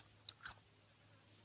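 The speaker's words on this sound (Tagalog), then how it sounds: "Narinig mo ba na sa bawat nguya ko, tumutunog ang crispiness ng ampalaya." Crunchy bites of sautéed bitter gourd (ampalaya) with onion and tomato, heard as two sharp crisp crunches close to the mic, then a fainter one at the end over quiet background.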